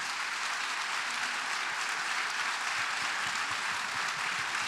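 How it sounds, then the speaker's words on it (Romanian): A concert audience applauds a traditional carol group of girls, a faint, even wash of many hands clapping from a distance, steady throughout without voices. "să le aplaudați încă o dată și să vă mândriți cu ele"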